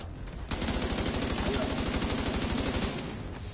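Rapid, loud burst of sniper gunfire in The Division 2: a dense run of sharp, evenly spaced shots lasting about two and a half seconds before cutting off.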